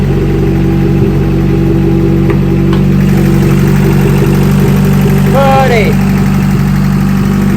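Honda Integra GSR with a B18C1 engine idles steadily and loud in the foreground, a constant low drone throughout while a voice talks briefly over it.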